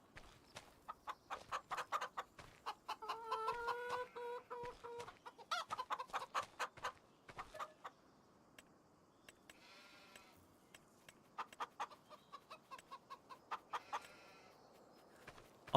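Chickens in a farming sim video game cluck in quick, sharp bursts, with a few drawn-out bleat-like calls mixed in, close and clear against a quiet background with no talk.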